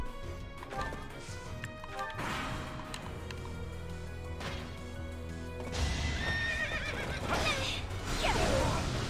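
Horse neighing and galloping hooves in Fire Emblem: Three Houses, a whinny over continuous clip-clop with background game music, louder toward the end.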